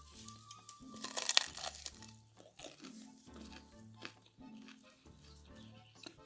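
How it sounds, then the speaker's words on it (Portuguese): Crispy baked phyllo pastry being bitten and chewed, a series of sharp crackly crunches with flaky crumbling, loud and close, the densest burst early and then rhythmic chewing crunches. "E fica bem crocante"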